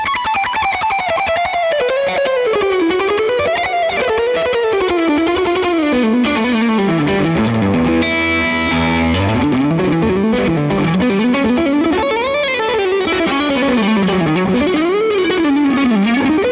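Electric guitar shred lead through the Morgan Amp Suite amp plugin, a dense, continuous run of fast distorted notes with sweeping pitch bends and effects, loud and alone throughout.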